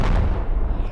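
A loud, heavy boom from a rocket launcher in the game Animal Company fills the moment, with a deep, rumbling burst that decays within a second and has no talk over it.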